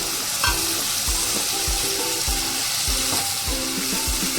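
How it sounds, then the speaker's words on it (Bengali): Prawns and taro stolons fry with mustard, cumin paste and green chilli under a loud, continuous sizzle, while a spatula scrapes through the pan in regular strokes about every half second. "এবারে এটা এইভাবে কষিয়ে নিতে হবে"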